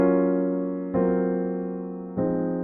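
Three sustained jazz piano chords, a 2-5-1 in rootless voicings, each struck cleanly and left to ring and decay before the next, with no voices.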